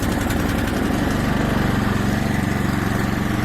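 An Ariens snowblower engine runs steadily and loudly at close range, a continuous rough small-engine drone with no clear start and no voices.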